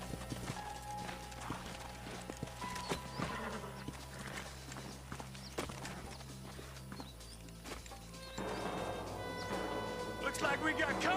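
Horses in the western video game Red Dead Redemption slow to a walk, their hooves clopping irregularly amid rumbling game ambience and a low steady hum, the sound swelling toward the end.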